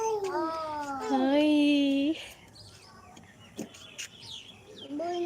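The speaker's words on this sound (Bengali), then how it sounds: "এই যে পাখিটা দেখেন কত সুন্দর" A bird gives loud, drawn-out warbling calls up close, then quieter chirps follow with brief clicks and a voice in the background.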